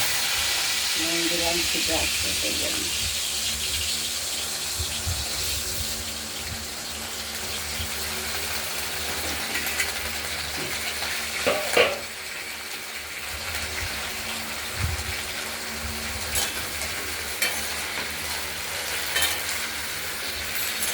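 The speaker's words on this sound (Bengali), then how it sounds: "ভেন্ডিগুলোকে ভেজে নেব একটু হালকা ভেজে নেব" Steady sizzling of okra frying lightly in a pan, with occasional scraping and clinks of a utensil stirring through it.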